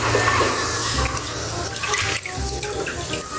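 Peanuts being washed in a sink under running water, with a steady rush from the tap and some splashing and rinsing that carries on without pause.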